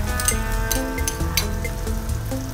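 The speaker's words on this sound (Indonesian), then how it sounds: "Pertama kita tumis dulu bawang merah, bawang putih, cabai merah yang sudah diiris." Shallots, garlic and sliced red chili stir-frying in a pan, a continuous close sizzle with scattered scraping and clinks of stirring.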